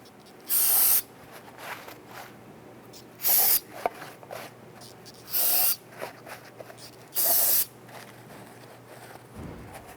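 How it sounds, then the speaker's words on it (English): Four short bursts from an aerosol can of spray solvent, each a loud, sharp hiss lasting about half a second, separated by pauses, with faint handling sounds between, during exhaust manifold gasket work on a 4.7L V8 Jeep Grand Cherokee. "Now I'm going to use a little bit of spray solvent on this."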